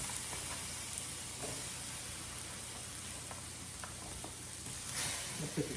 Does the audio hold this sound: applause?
no